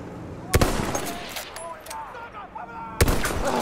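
Gunfire in the video game Battlefield 1: two sharp, loud shots about two and a half seconds apart, with fainter scattered shots and game effects between them.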